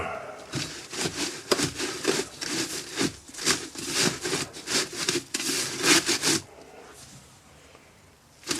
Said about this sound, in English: the first layer of sand gets riddled, shot any bits of metal from previous casting operations